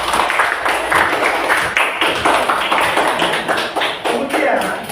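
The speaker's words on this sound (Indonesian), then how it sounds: "Tepuk tangan." A classroom of students clapping their hands, a rapid, fairly loud and steady patter of many claps lasting several seconds in a room.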